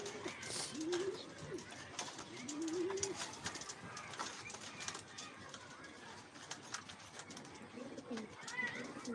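Pigeons coo in soft, repeated rising calls within a loft or rooftop setting, with a steady ambient hiss and light background clatter throughout.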